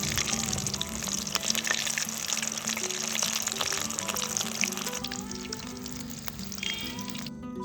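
Flour-coated KFC-style chicken pieces fry in hot oil with a steady, dense sizzle and crackle, close and continuous, with no talking.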